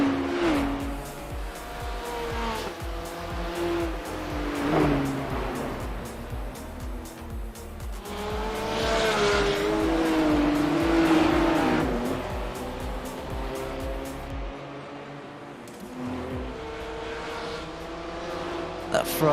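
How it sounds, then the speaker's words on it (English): Race cars, including Ferraris, lapping the Bathurst 12 Hour circuit, engines roaring and shifting through gears as they pass, with tire squeal and a steady trackside din under commentators talking. "That Ferrari with the wonky wing is still going around in 20th position."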